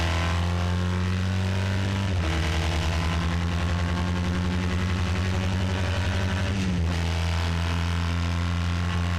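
Race car engine drones loud and steady on track during a Kastner Cup race, dropping in pitch briefly at two gear changes before holding again.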